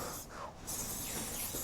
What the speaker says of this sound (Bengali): ওই পার্টগুলো আমি স্প্রে করে দিচ্ছি